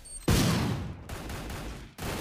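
A burst of loud gunfire erupts from a mobile video game tournament match, a sustained volley of shots that briefly cuts out and then resumes.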